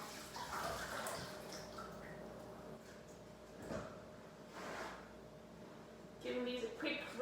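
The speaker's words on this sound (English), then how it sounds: "Let me rinse these really quickly." Raspberries are rinsed under a running tap, a faint, uneven splash and patter of water that swells near the end, with a voice murmuring softly underneath.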